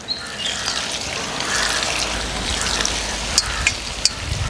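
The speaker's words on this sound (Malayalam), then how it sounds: "നല്ല തിളച്ച് നിൽക്കുന്ന വെളിച്ചെണ്ണയൊക്കെ അങ്ങോട്ട് കൊടുക്കാം" Hot coconut oil sizzling as it is poured onto a frying Ramadan iftar snack, a continuous close hiss with a few sharp pops near the end and no voices.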